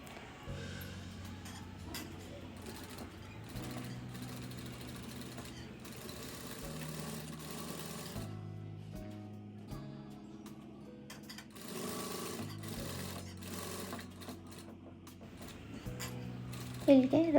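A sewing machine stitches around the half collar of a size-38 blouse in close, steady mechanical whirring runs, broken by short pauses and shifts in speed, with faint voice at times.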